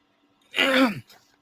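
A single throat-clearing cough from a teacher in the middle of a spoken Italian lesson: one fairly loud, rough burst lasting about half a second, then a faint trailing breath, with no talk around it.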